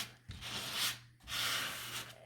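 Gentle hand sanding of a small wooden spring bird held in a template, two soft broadband scratchy strokes separated by a brief pause, close and quiet.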